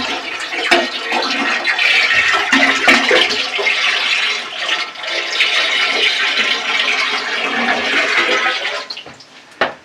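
Buttermilk poured and stirred into a container of water on a natural farm makes a continuous gushing, splashing rush of liquid that runs steady for several seconds before trailing off.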